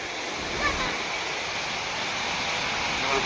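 Water pouring over and overflowing at the Tangankana waterfall, a steady broadband rush of falling water that stays loud and even throughout, with no talk over it.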